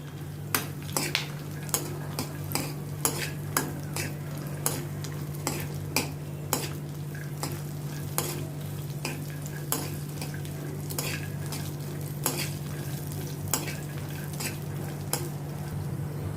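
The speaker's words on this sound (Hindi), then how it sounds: "इसमें मैं अभी ये थोड़े कैशू नट्स डालती हूँ। इनको भी इनके साथ अभी मैं रोस्ट करती हूँ।" Cashew nuts and peanuts dry-roasting in a pan, a spoon scraping and stirring in a quick, steady rhythm of clicks over a low continuous sizzle and a constant background hum.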